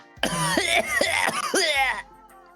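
A run of several harsh coughs in quick succession, loud and close, ending abruptly.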